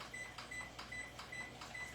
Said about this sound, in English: we're just going to put this lid on into the microwave for about 3 minutes-ish to get it caramelized up